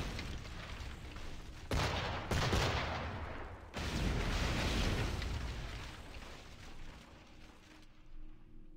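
Cannon fire from a pirate ship battle in Assassin's Creed Black Flag, booming volleys and rumbling explosions in several heavy bursts that fade into quieter rumble at the end.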